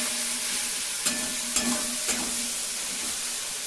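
Spice masala stir-fried in oil for a jackfruit curry gives a constant sizzling hiss with three soft scrapes of a spoon against the pan, close and steady, and no one talking.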